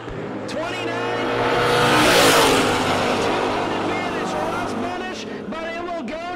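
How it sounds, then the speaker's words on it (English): A Chevrolet Camaro drag races on the right-hand lane in the final round at the No Box Open, its engine roaring loud as it passes close by, with a commentator talking over it throughout. "Gorgeous Chevrolet Camaro, right-hand side, 581."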